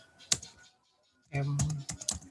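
Someone types a spreadsheet formula on a computer keyboard: a quick burst of key clicks, a short pause, then a denser run of tapping, with a voice speaking briefly over part of it.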